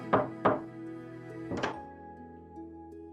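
A visual novel sound effect of knocking on a door: two quick wooden knocks, a pause, then a third, each followed by a short hollow ring, close and clean with no speech.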